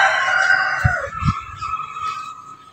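Barred Plymouth Rock rooster crowing once, a loud, drawn-out call close by, with a few low thumps partway through.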